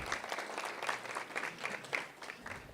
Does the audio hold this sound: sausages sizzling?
no